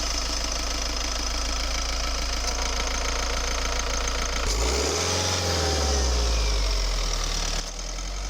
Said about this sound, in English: The engine well refined.